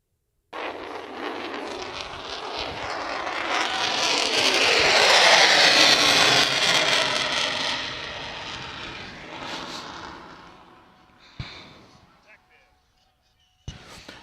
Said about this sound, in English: From the right, on the knife edge, the F-35C photo pass.